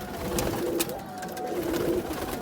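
Bango pigeons coo softly in low, rolling murmurs over a noisy background, with a few faint rustles and flutters.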